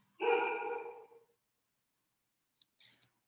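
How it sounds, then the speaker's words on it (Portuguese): Pet dogs barking during an online maths class, a loud burst of several overlapping barks in the first second, then a few faint short yips near the end, with no talking. "vocês percebem que os meus cachorros gostam de interagir, né, durante as aulas"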